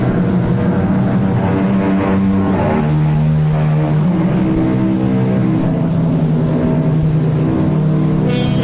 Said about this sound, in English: Off in the distance, we hear the keening of a finely tuned sports car. It grows louder as the car approaches.